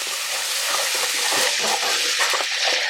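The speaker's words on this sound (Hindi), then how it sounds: "तो 1-2 मिनट के लिए इसको फ्राई कर लिया।" Steady, close sizzling of ginger-garlic paste frying in hot oil in a wok, with faint scraping of stirring throughout.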